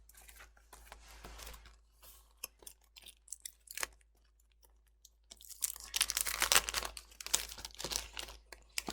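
Self-adhesive sticker peeled and pressed onto 1 mm foam paper for card making, intermittent close crinkling and tearing rustles that start sparse and faint, then grow busier and louder toward the end, no talk.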